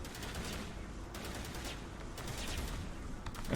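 Video game gunfire in Mass Effect 1 fires as dense automatic bursts, a constant rapid rattle of shots that stays loud throughout.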